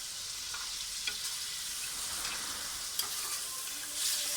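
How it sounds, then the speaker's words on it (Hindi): Chicken karahi fries over a high flame, a continuous bright sizzle at moderate volume with a couple of soft knocks and a louder hiss swelling at the end. "अब हम इसमें थोड़ा थोड़ा डालते जाएंगे और इसको फ्राई करते जाएंगे।"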